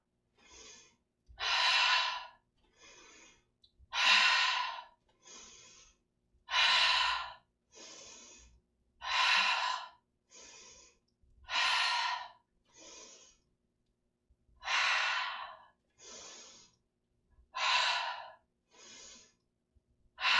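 Pilates breathing, in through the nose and out through the mouth: about a dozen loud, close, airy breaths in a slow, even rhythm, each long exhale followed by a shorter inhale, with no talk over them.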